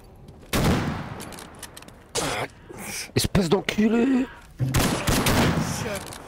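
Gunfire in the video game S.T.A.L.K.E.R. Anomaly, loud broadband bursts and sharp single shots spread across the clip, with people talking and laughing between them.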